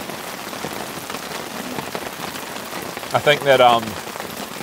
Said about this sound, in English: I wouldn't really want the rain to be any heavier